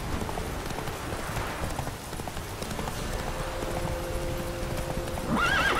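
A horse in The Witcher 3: Wild Hunt gallops with steady, rapid clip-clop hoofbeats under ambient game sound, and a whinny breaks out near the end.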